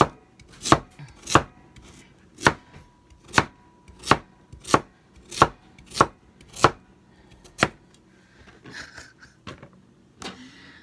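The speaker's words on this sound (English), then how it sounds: "it's a lot easier for me to do chopping of the veg and prepping of the veg and stuff like that sitting at my desk" Vegetables being chopped at a desk, a knife striking a board in a steady run of about a dozen sharp, close chops, then a pause with faint background noise before two or three more cuts.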